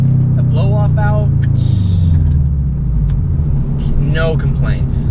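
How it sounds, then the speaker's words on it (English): A tuned Subaru WRX's blow-off valve lets out short, breathy hissing bursts over a steady engine and road rumble inside the car, with a person talking over it. "The blow-off valve"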